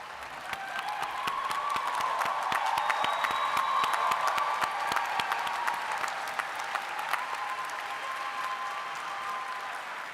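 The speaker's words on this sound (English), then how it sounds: "give a better round of applause to everybody that helped get them here" A large crowd at a medical college commencement ceremony applauds steadily for several seconds, dense continuous clapping filling a big room, with a few scattered cheers rising over it.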